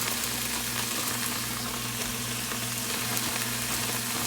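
Shredded carrots dropped into a soup pot with hot oil, producing a loud, continuous close sizzle with a low steady hum beneath, even in level throughout and without distinct separate drops.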